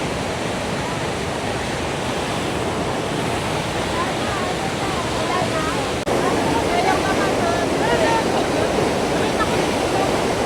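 Numa Falls in British Columbia roars as a continuous broadband rush of falling water, loud and close, growing slightly louder partway through with no talk over it.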